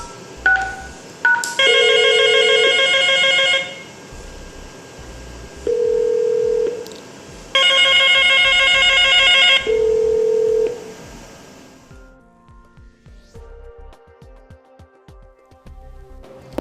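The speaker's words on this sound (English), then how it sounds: "The extension rings." An IP PBX extension rings through a NeoGate TA FXS gateway setup, with loud electronic ring bursts alternating with shorter beeping tones in a repeating pattern, then quieter clicking and tones after the ringing stops.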